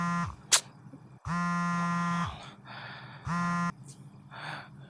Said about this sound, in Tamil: டேய் ஃபோன் அடிக்குதுடா.